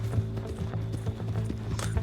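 Horse hooves in the video game Red Dead Redemption 2 clip-clop at a steady, even trot over a constant low hum.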